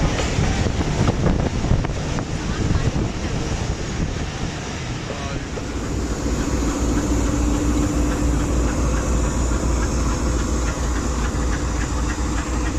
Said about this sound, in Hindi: 44 डाउन शाह हुसैन एक्सप्रेस लांडी जंक्शन रेलवे स्टेशन से कराची कैंट की तरफ रवाना हो रही है